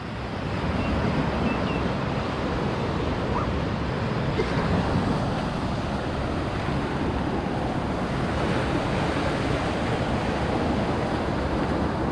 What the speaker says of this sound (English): We want to hear the sound of the waves.